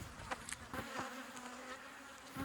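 Bees buzz around beehives during hive splitting, faint drones passing close by in short swells over a low steady hum, with no voices.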